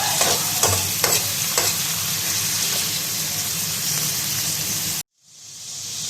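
Chopped onions fry in hot oil for aloo gobhi, a steady loud sizzle broken by a few scraping stirs, then cutting off abruptly into a brief quiet and softer hiss.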